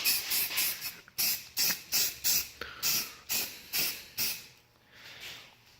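Bursts of primer spray from a spray can or gun hiss rhythmically across a Honda CBR 600RR motorcycle fender, about a dozen short, evenly spaced puffs close up, with no talking.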